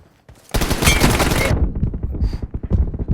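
Rapid burst of automatic gunfire in the battle royale game PUBG, loud and dense for about a second, then scattered shots and clicks continuing.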